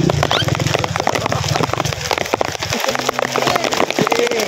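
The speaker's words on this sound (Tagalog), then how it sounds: "Lakas ng ulan!" Heavy rain pours down hard, a dense continuous patter beating on a surface throughout, loud and close.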